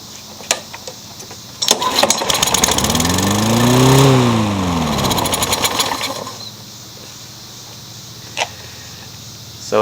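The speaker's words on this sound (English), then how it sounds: "So it does run, but it runs way too fast." A John Deere engine running too fast, catching and revving up sharply to a high whine, then dropping back after a few seconds, with clanks and mechanical knocks around it.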